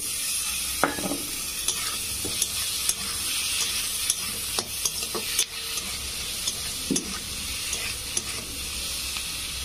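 Chopped tomatoes fry in a hot pan for egg chilli, a steady close sizzle broken by repeated scraping stirs of a spatula against the pan.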